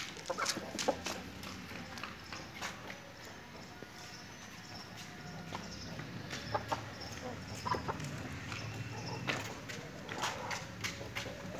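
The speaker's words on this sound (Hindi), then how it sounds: "ये माशाल्लाह बहुत अच्छा मुर्गा है," Aseel rooster clucking in a daily farmyard setting, with short repeated clucks and calls scattered across a moderate background of other fowl and outdoor noise, fairly close.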